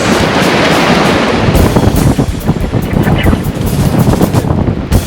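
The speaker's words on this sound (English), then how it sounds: "And the wind is still whipping here in Mykonos." Strong wind whipping on the island of Mykonos, loud continuous buffeting roar across the microphone with gusty surges throughout.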